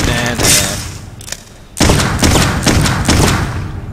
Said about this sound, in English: Whoa, ricochet bullets, really?